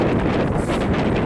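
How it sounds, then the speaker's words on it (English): Strong wind buffets the microphone in a loud, continuous roaring gust with no voices, at a wild camp beside a Roman fort with mountains and cliffs behind. "it's just too windy"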